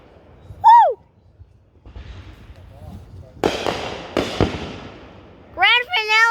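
Backyard Fourth of July fireworks finale, with a few sharp bangs and crackling bursts near the middle, whistling rockets near the start and end, and people cheering and talking around them.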